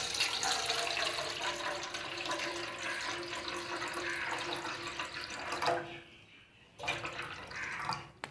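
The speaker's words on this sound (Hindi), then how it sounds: "हमको इस पानी को इस कटोरे में डाल देना है।" Water pours steadily into a bowl in a continuous splashing stream, pauses briefly, then resumes.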